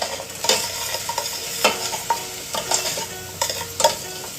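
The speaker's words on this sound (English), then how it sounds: "I'm cooking okra in a tomato based sauce" Okra cooking in a tomato-based sauce in a pan, a steady soft sizzle with repeated stirring scrapes and clinks at close range, no voices.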